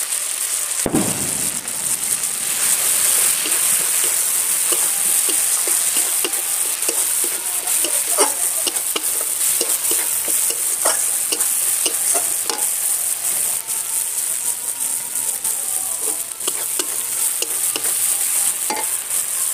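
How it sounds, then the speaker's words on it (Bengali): Chili powder sizzles in hot oil with fried ginger in a pan while a spatula stirs and scrapes, giving a steady, close crackling fry with sharp clicks throughout and no talking. "এবারে লঙ্কা গুঁড়ো দিয়ে দিচ্ছি"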